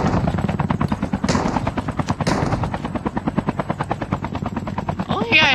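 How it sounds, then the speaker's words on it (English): Rapid automatic gunfire in the mobile battle royale shooter Call of Duty Mobile, a long steady burst of evenly spaced shots with a few brief gaps, loud and close, over game ambience with a helicopter-like drone. "stop shooting at nothing"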